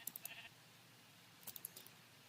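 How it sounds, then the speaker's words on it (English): Sheep in Minecraft give a few faint, short bleats in two small clusters separated by a quiet gap, distant and soft with no talking. "There's so many sheep here."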